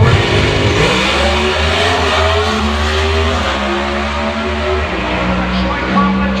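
Pro Stock drag race cars at Sonoma Raceway, a loud sustained roar of high-revving engines with shifting pitch, heard under an announcer's commentary.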